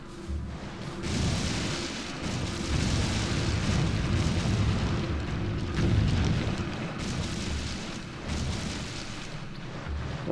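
A bomb explodes in Wind Waker HD amid a dense, continuous booming rumble with bursts of crackle, loud and sustained across the whole stretch.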